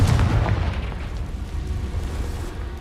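A Confringo fire-blast spell in Hogwarts Legacy bursts loudly at the start, then trails off into a heavy, rolling rumble that keeps going to the end.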